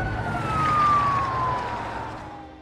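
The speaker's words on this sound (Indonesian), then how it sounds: "terdengar suara sirine polisi" Police siren wailing loud and close, one long descending tone sweeping down over a low engine rumble, then fading slightly toward the end.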